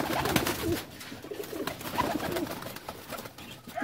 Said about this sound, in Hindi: ये मोतियों वाला, प्योर मोतियों वाला कबूतर है